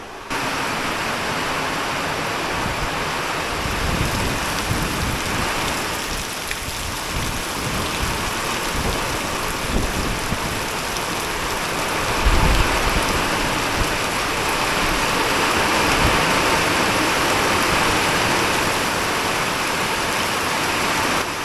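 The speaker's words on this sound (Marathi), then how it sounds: "बाहेर मस्त पाऊस पडतोय" Heavy monsoon rain pours outside a house in Maharashtra, a dense continuous hiss of water on surfaces, steady and loud throughout with no talk.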